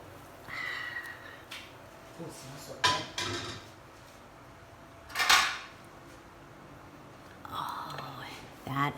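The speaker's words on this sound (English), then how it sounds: "Let's give it a little shake and just slide it right onto the dish" A pan holding a frittata is shaken and then slid onto a dish: a few soft metallic clanks and scrapes, close but fairly faint, spread between quiet stretches, with low murmured speech nearby.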